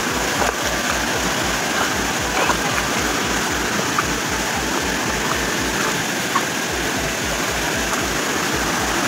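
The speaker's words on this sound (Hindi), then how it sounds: "चावल भूजा वाटरफॉल" Chaula Bhuja waterfall in Mayurbhanj pours in a steady, dense roar of rushing water, constant and close, with a faint voice briefly beneath it.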